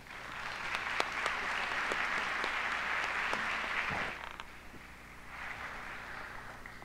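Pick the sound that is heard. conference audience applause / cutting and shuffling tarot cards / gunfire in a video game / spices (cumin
conference audience applause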